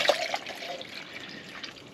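Hot water poured into a measuring cup at a snowy winter tent campsite, a steady splashing trickle that starts strongest and eases off over two seconds, close by with no talking.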